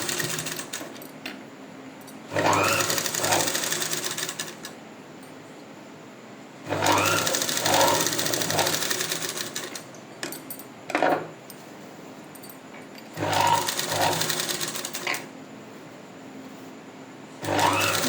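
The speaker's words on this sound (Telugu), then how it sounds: "నేను నార్మల్ పాదంతోనే పైపింగ్ అనేది స్టిచ్ చేస్తున్నాను" A sewing machine with a normal presser foot stitches piping in three separate runs of fast, even whirring, with quiet pauses between them where small handling sounds can be heard.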